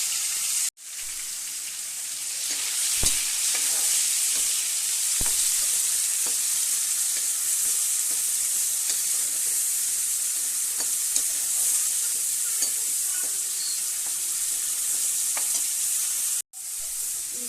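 Curry leaf chitranna sizzles and fries in a pan while it is stirred. A steady close hiss carries scattered scraping clicks from the stirring and runs continuously with no talking.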